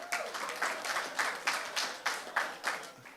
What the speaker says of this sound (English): Let's give our farmers a round of applause.